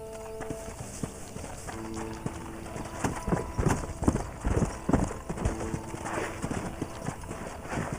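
Rhythmic clip-clop of horse hooves on hard ground in the video game Red Dead Redemption, growing louder midway, with faint musical tones and a brief voice in the background.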